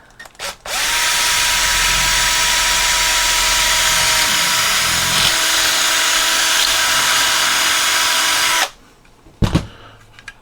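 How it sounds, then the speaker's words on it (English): A power drill whirs steadily at close range for about eight seconds, drilling a small hole for an antenna extender, then stops, followed by a couple of brief knocks. "I'm just going to drill a little hole right here for our new antenna extender."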